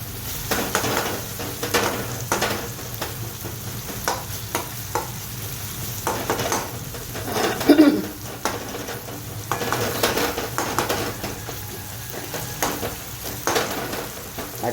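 Tomatoes sizzle and fry in a pan with turmeric and salt while a spoon stirs and mashes them, producing repeated scraping strokes over a steady crackle, close and moderately loud with no talk.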